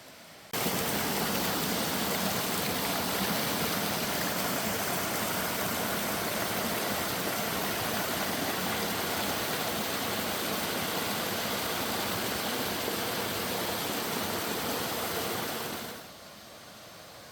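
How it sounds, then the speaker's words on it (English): The headwaters of Lester Creek rush steadily along a mountain trail, a dense, unbroken wash of flowing water that stays loud and constant throughout before easing slightly at the end. "that's the headwaters of Lester Creek, and it's really pretty."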